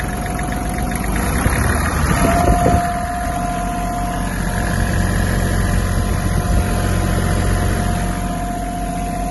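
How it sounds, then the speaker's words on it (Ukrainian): Kubota GL-200 Japanese mini tractor engine idling close by with a steady low drone, then a brief rev as the throttle is opened before it settles back to an even run, with no voices. "Ось робота двигуна дуже чиста. Я можу навіть піддати газу."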